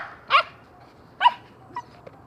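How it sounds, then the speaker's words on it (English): An excited dog gives two sharp barks close by, followed by a softer yip and a faint whimper, with quiet pauses between. "Okay, so now I'm out with the dog. She's super excited."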